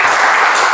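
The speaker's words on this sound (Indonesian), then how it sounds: "Terima kasih, tepuk tangan untuk perwakilan kelompok" A loud, dense burst of applause from a classroom audience for a group's representative, a short wash of many hands clapping together at close range.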